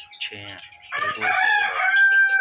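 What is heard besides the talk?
chickens clucking, Aseel Misri cross hens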